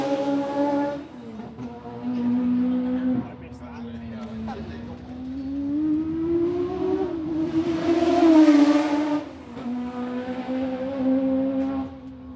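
A Brabham BT52 Formula 1 car engine howls at high pitch during a demonstration run at Goodwood, its revs rising and falling as it passes, loud and sustained for several seconds.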